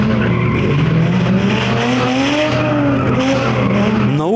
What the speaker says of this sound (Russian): Визг тормозов и рев моторов.